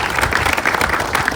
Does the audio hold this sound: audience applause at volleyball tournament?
yes